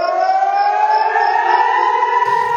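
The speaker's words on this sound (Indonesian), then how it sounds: "Usai drone berhasil diluncurkan di udara, tak lama sirine serangan pun berbunyi." An air raid siren wails loudly in Eilat, Israel, holding a steady rising tone with no voices, and then cuts out abruptly near the end.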